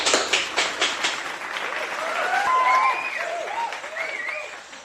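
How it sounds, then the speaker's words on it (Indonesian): Audience applause in a community health training session fills the room, a dense burst of clapping that starts strong, swells and slowly thins out, with faint voices and some higher vocal sounds mixed in. "Mari kita tepuk tangan."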